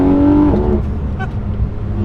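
Naturally aspirated engine of a Porsche 991.2 GT3 RS pulls hard from inside the cabin, a loud continuous mechanical roar with a falling tone early on before a steady broadband drone.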